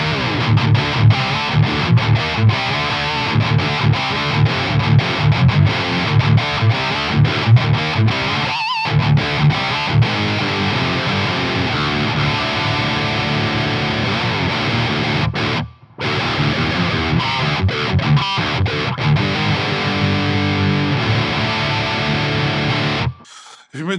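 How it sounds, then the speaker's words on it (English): A Jet electric guitar on its bridge humbucker, run through a Joyo Zombie 2 distortion pedal with gain near 9 o'clock and tone near 1 o'clock, plays loud, thick distorted riffs with a couple of short silent gaps. "this is the jet guitar, this is with the gain on 9 o'clock, the tone on 1 o'clock, and with the bridge pickup"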